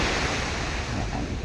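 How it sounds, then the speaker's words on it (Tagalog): High sea waves on a Zambales beach make a loud, continuous roar of surf with a windy rush, heard up close without a break. "Mataas yung alon dito mga guys."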